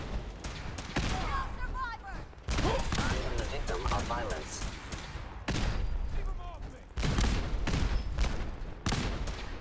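Automated turrets firing in a Fallout 4 battle at Bunker Hill, bursts of rapid gunfire coming in clusters, loud and close, with a person talking between volleys.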